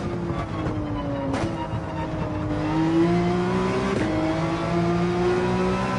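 Race car engine in Gran Turismo 7 accelerating steadily, its rising whine climbing in pitch with brief gear-change dips, loud and close without talk.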